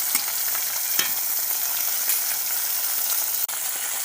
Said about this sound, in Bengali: সব কটা মাছ ভাজা হয়ে গেছে